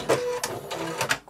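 Sewing machine running a few quick backstitches at the end of a seam while sewing a fabric beach pouch, a short close rattling burst of rapid mechanical ticks lasting just over a second.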